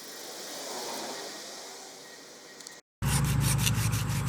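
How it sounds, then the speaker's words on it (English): Hand sanding on a wooden workpiece to remove a gouge left by a belt grinder: soft, steady rubbing strokes that are fairly quiet, broken by a brief silence and then a louder, rougher burst of scraping. "I dug in just a little bit here with the belt, so I'm trying to sand that out now."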